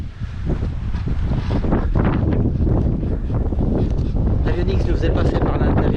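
An Elan 444 sailboat runs downwind under genoa off Croatia in roughly 15–20 knots, with steady loud wind buffeting the microphone and water rushing along the hull throughout.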